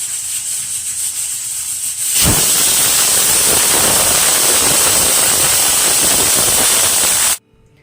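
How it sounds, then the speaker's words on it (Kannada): Pressure cooker whistle opened after cooking leg-bone soup, releasing a sudden loud continuous steam hiss that starts after a quieter moment, holds steady for about five seconds, then cuts off abruptly. "ವಿಷಲ್ ಇವಾಗ ಓಪನ್ ಮಾಡ್ತಾ ಇದ್ದೀನಿ."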